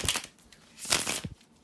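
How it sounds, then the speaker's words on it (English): A deck of tarot cards being shuffled by hand, giving a few quick papery riffling bursts, close and fairly quiet, with short gaps between them. "bear with me a second, guys, to shuffle the cards"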